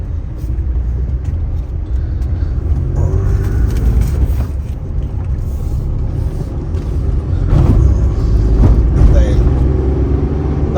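A car on a forest road near Thannithodu heading toward Konni, its steady low engine rumble and road noise continuous throughout, swelling slightly louder near the end, with a voice talking over it.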